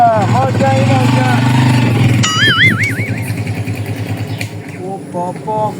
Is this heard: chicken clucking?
no